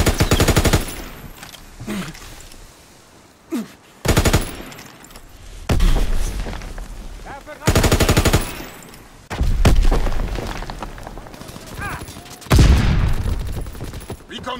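Bursts of machine-gun and rifle fire in the WWII shooter game Call of Duty: WWII crack in repeated volleys separated by short gaps, with shouted voices in the battle.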